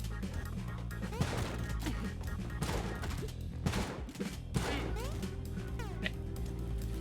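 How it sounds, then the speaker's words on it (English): Shotgun blasts in a video game ring out as several loud, booming reports spaced a second or so apart over a busy backdrop of in-game crashes and thuds. "let's use the shotgun for a minute"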